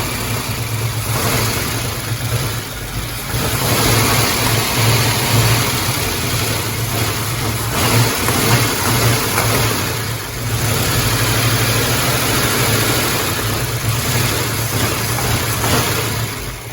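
A 1967 Pontiac Firebird, abandoned for 25 years, runs steadily after its first start, a loud, continuous rough engine note near the microphone with slight swells in revs throughout.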